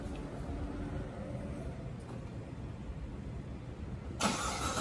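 A C7 Corvette at a muffler shop starts up near the end, a sudden loud burst of engine noise breaking over a steady low rumble of idling and shop background.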